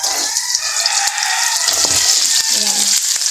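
Loud sizzling and crackling of chicken meat hitting hot oil in a pot, a constant hiss with brief bubbling pops and a short clink near the end.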